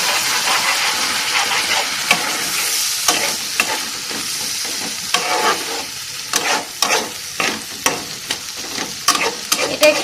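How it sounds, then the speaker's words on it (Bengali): Spicy chicken masala being stirred in a pan, a continuous loud sizzle and hiss broken by repeated scraping strokes of a spoon that grow more frequent and sharper toward the end, with no talking. "এবার এটাকে ভালো করে নাড়িয়ে নিতে হবে"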